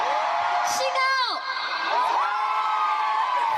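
Large arena crowd at a K-pop concert, screaming and cheering, with high shrill shrieks rising and falling over a steady roar. Nearby voices also shout.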